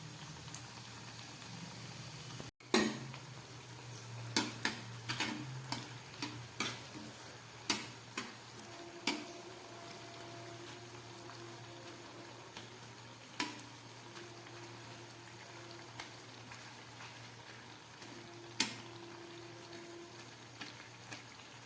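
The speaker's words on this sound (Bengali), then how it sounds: "তেলটা গরম হয়ে গেছে, আমি এই বানিয়ে রাখা এই ময়দার টুকরোগুলোকে দিয়ে দিচ্ছি।" Pieces of flour dough fry in hot white oil under a faint, quiet bubbling, while sporadic sharp ticks and clinks of utensils sound close by.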